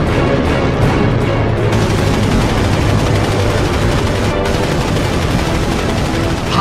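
Skyraider aircraft guns firing high explosive rounds at a MiG, a loud, dense, continuous burst of rapid gunfire roaring without pause, thick and close with heavy low rumble throughout.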